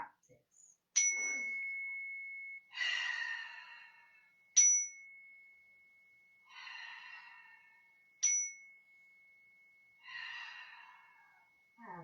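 A meditation chime rings three times to open a practice session, each bright ring followed by a long audible exhale from the group, the whole sequence spaced evenly and close.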